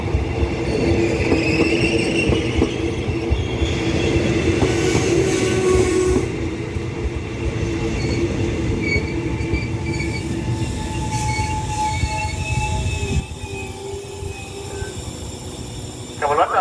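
Special express train 31 stands at Ban Pong station, Thailand, with a loud, close rumble of rail cars, squealing wheels and hissing brakes, while voices and a station announcement carry over it.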